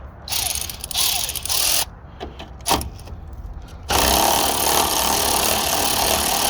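A ratchet loosening a bolt on a 1999–2006 Chevrolet Silverado: bursts of rapid close clicking, a pause with a few metallic clinks, then a steady louder mechanical whir to the end.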